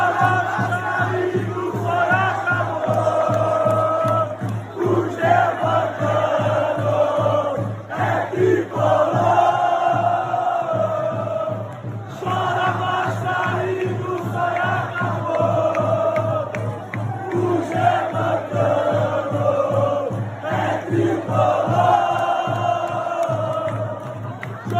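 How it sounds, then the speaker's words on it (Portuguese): Football supporters chant songs mocking Vasco da Gama after a Taça Guanabara title, a dense crowd singing in rhythmic, sustained unison that stays loud and continuous throughout. "cantando ao lado da sua atual torcida músicas contra o Vasco da Gama"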